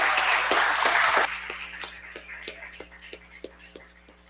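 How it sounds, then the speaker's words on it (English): Audience at a Black August celebration applauding, a dense burst of clapping that thins after a second into scattered individual claps fading out over a steady low hum. "Can we get another round of applause for Evan Prescott?"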